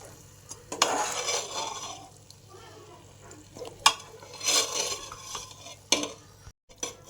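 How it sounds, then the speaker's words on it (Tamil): A spoon stirring mutton curry with tomato, onion and ginger-garlic paste in a pot, giving several scraping, clinking strokes against the metal with a soft sizzle between them. "இப்போ வந்து நல்லா மிக்ஸ் பண்ணி விட்டுருங்க"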